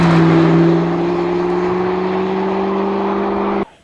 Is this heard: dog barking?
no